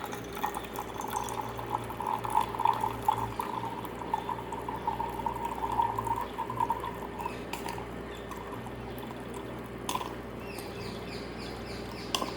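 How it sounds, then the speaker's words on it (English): Distilled water, about 100 ml, is poured into a glass beaker for a roadside soil test. The pour makes a quiet, continuous trickle and splash that lasts several seconds over faint room noise. "100 ml of water in beaker."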